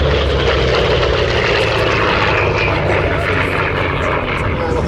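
A propeller-driven aerobatic warbird, one of the Navy fighters such as a Corsair, Wildcat or Bearcat, roars past at an airshow, a loud sustained engine drone filling the air throughout.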